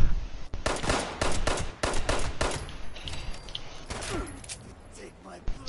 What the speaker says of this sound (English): But why are they shooting at us?